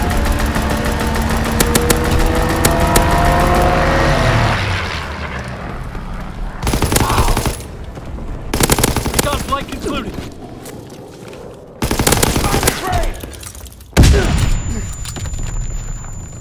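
In Call of Duty WWII, a fighter aircraft makes a strafing run: loud sustained machine gun fire and engine roar give way to dense bursts of gunfire and booms, with game voices heard.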